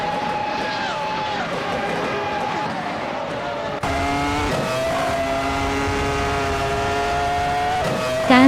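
Race cars in a racing video game overtake one another, their engines whining loudly with rising and falling pitch as they shift. The sound jumps abruptly midway into a denser, louder pack of engines.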